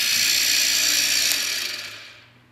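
Tool Tech PB13 pneumatic line bore machine running, a loud high whir from its drill bits that winds down and fades within a couple of seconds, close by.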